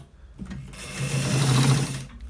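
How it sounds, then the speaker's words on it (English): A sewing machine runs in one steady, close stitching burst of about a second and a half while sewing a collar shirt, starting and stopping cleanly with no talking. "So we are done stitching this part"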